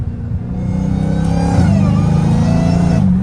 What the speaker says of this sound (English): I love the supercharger whine